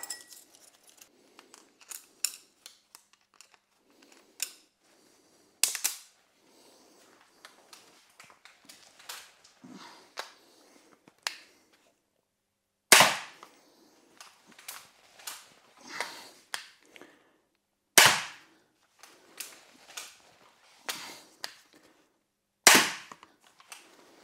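Test shots from an X-Bow FMA Supersonic Tactical crossbow: several sharp, loud cracks, each standing alone and spaced a few seconds apart, among quieter clicks and handling noises.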